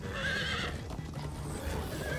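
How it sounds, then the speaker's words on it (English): A horse in the Minecraft Story Mode video game whinnies loudly in a single rising, wavering neigh, followed by faint hoof clip-clop and game ambience. "Slow down, horse!"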